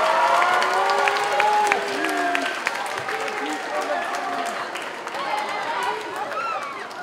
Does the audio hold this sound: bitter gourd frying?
no